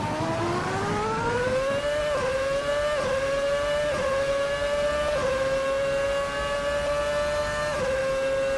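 An open-wheel VRC F2007 race car in Assetto Corsa holds a loud, high engine whine, revving with brief dips at each upshift roughly every second, steady and alone.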